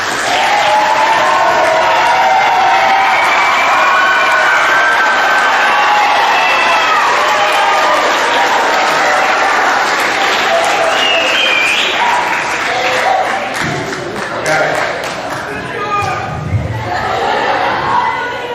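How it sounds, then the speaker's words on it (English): A standing crowd at a middle school awards assembly gives a long, loud round of applause with cheering, sustained for nearly twenty seconds before thinning out toward the end. "So if you could all stand up and give her a big round of applause."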